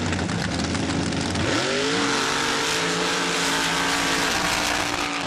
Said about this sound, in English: MRA race action on Mud Truck Television.